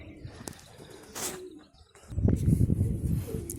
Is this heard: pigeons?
yes